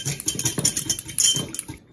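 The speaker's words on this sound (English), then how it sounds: "And let's give that a whisk." Dijon mustard, oil and vinegar dressing being whisked in a bowl, heard as quick, close, irregular clicking and tapping strokes that stop just before the end.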